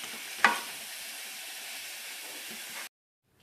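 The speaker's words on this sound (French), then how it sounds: "on défait la viande en petits morceaux avec la cuillère à mesure qu'elle cuit" Ground meat fries in a pan with a steady, close sizzle lasting nearly three seconds, a sharp spoon knock near the start as the meat is broken apart, then a sudden cut to silence.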